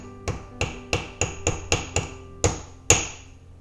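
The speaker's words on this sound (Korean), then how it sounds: "우선은 이 작은 망치로 깨볼게요" Small hammer striking a diamond held in place, eight sharp metallic taps in an uneven rhythm, close and fairly loud with no talking.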